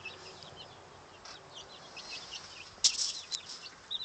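Chickens clucking close by in short, soft bursts, with a sharper squawk near the end over a quiet background.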